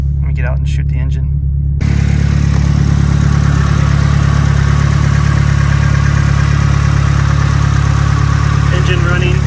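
A Nissan 180SX engine idles steadily and loudly close by, a constant low rumble with no variation, after a brief moment of talking at the start.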